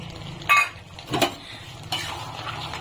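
Mourola fish curry with a little flour-and-water paste being stirred in a pan: a few separate scraping clinks of a spoon against the pan, spaced out over a faint simmering background, close and fairly quiet.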